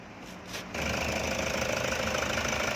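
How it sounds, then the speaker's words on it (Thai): A steady Toyota Ventury van engine idles close by, a low even rumble with a faint rhythmic ticking, growing slightly louder after a brief quieter start. "ฟังเสียงเครื่องได้เลยนะครับ"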